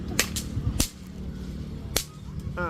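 Three sharp firecracker pops at uneven intervals, loud and close, each a quick crack over a quiet background.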